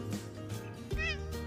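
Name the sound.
cat Suki meowing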